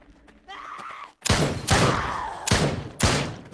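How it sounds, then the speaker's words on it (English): Gunshots in the VR zombie shooter Drop Dead Dual Strike: four loud, sharp shots spaced about half a second apart, after a short stretch of quieter game sound. "So I'm just taking pop shots for you guys to kind of show you how accurate these bullets can actually be"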